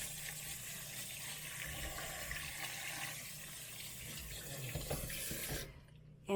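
Tap water runs steadily into a kitchen sink as oranges are rinsed for canning, a continuous close splashing rush that cuts off abruptly near the end.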